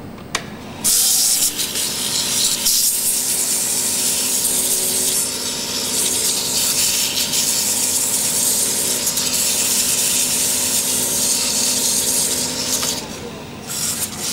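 Sandpaper of 120 grit rubs against a wooden pen blank spinning on a lathe, a steady loud hiss over the motor's hum that starts abruptly and tapers off near the end.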